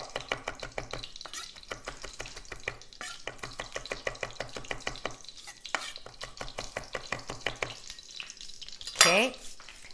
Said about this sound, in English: And then just do a little chopping.